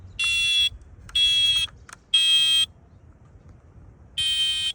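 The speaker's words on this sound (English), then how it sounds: "this is what a dead battery does to a smoke detector." A smoke detector with a dead battery sounds loud, harsh buzzing alarm bursts up close: three long blasts in quick succession with a short blip between, a pause, then a fourth blast.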